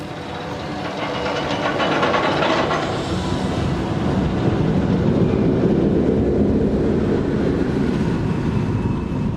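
An empty roller coaster train on Texas Stingray at SeaWorld San Antonio rumbles steadily past with a broad roar and faint rattling, continuous and fairly loud, no voices.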